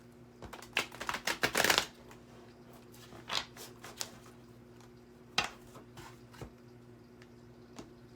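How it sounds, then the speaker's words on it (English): Crisp riffling bursts of a card deck being shuffled, a dense flurry up front followed by scattered taps and snaps, close by with a faint steady hum beneath. "I'm going to shuffle one more time"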